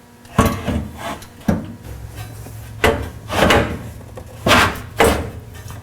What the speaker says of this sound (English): We just have to slide the transfer case skid up on top of the transmission skid.